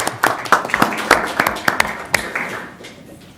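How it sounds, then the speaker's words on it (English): Scattered clapping from a small audience at an Ogden city council meeting, a few seconds of uneven hand claps that quickly thin out and fade. "We could clap for them."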